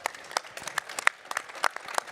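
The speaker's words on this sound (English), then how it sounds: "Let's give them a round of applause." Scattered applause from a small audience at a robotics competition award ceremony, a handful of separate, uneven claps spread thinly over a couple of seconds at moderate distance.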